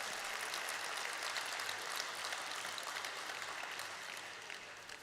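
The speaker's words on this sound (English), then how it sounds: "Once again, can we have a round of applause, everyone?" At a stock exchange listing ceremony for Aequs Limited, the gathered audience gives sustained, even applause, a thick wash of many hands that tapers slightly near the end.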